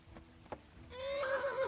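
A horse in Kingdom Come Deliverance gives a rising, wavering whinny after a couple of soft hoof-like thuds, fairly faint and alone with no talking.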